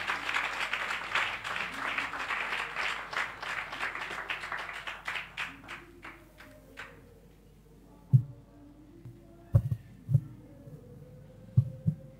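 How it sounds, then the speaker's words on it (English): Congregation at a Chrisco Church service in Kawangware claps together for about six seconds, a moderate, steady wash of hands that fades out, followed by quiet voices and a few scattered sounds. "You can clap for her."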